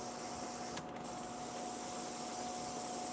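Aerosol can spraying a matte finish onto a diecast model car, heard as a steady hiss that runs throughout with a brief dip partway, fairly close and without talking.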